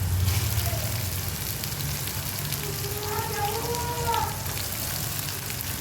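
Finely chopped tomatoes fry in a pan of a home kitchen, giving a continuous soft sizzle and crackle that stays even throughout, with a faint voice murmuring now and then underneath.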